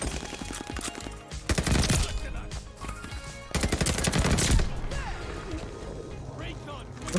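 Bursts of loud automatic gunfire from the Call of Duty Vanguard video game crackle in rapid, repeated volleys, with a short pause before another heavy burst.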